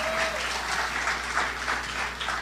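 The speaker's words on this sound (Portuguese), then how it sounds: "Uma salva de palmas, seu homem de Deus." Congregation applause in a church service, steady dense clapping from a crowd sustained throughout, with no talk.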